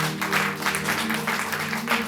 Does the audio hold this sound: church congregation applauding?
yes